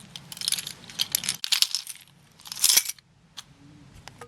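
Two keys on a chunky keyring jangling and clinking in several bright, close bursts separated by brief pauses, with faint low room noise between.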